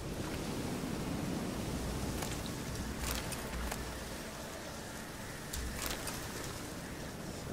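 Steady hissing rain and storm in the video game The Witcher 3: Hearts of Stone fill the scene with a constant rushing wash, a few sharper gusty bursts rising now and then.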